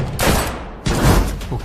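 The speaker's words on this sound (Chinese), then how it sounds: "开枪！" A volley of gunfire erupts during an urban fantasy fight scene, with two loud, dense bursts of rapid shots crashing one after another at close range.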